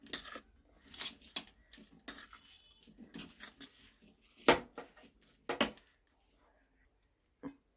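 A spoon works through food in a dish, making scattered clinks and scrapes in short bursts separated by quiet pauses, with a final lone tap near the end.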